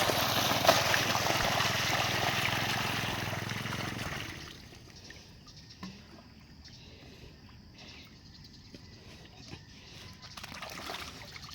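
Water pumped by two motor pumps from a very deep source gushes loudly from a single hose for a few seconds, then drops away, leaving faint trickling and quiet outdoor background.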